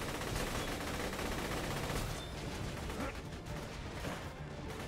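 Dense, continuous gunfire in Borderlands 2, with rapid automatic bursts and explosive crashes piled into a loud, unbroken wall of sound that eases slightly after two seconds.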